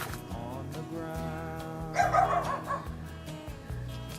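Dogs at an animal hospital kennel with an outdoor yard bark and yip in a cluster of sharp calls, louder for a moment midway, over a steady low background hum.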